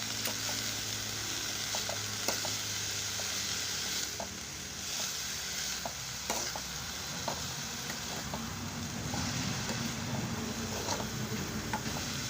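Sewali (night jasmine) flowers fry in a pan with a steady, dense sizzle, broken by occasional scrapes and taps of a spoon stirring them, close and continuous with no talking.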